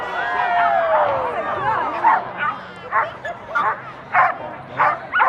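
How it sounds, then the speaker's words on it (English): Dogs yip, whimper and bark excitedly at a dog relay race, starting with rising whines and followed by a string of sharp, evenly spaced barks close by. "let's bring out our dogs"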